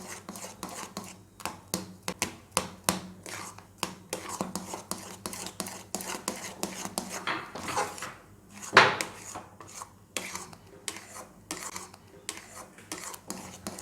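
A spoon stirring a palm (taal) sweet mixture in a pan, steady rhythmic scraping taps against the metal repeating closely throughout, with one sharper clank near the end.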